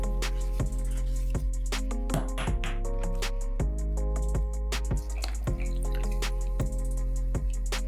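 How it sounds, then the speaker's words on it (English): Drink drains from a hole punched in the bottom of a tin can, a rapid series of close, distinct drips and splashes falling at an irregular rhythm. "Make a hole in the bottom of the tin can and drain the drink."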